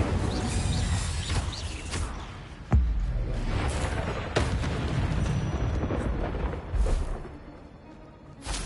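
Fiery spell cast in the video game Hogwarts Legacy: a roaring, rumbling blast with repeated booming surges and crackling bursts, loud and dense over a steady game soundscape, without talking.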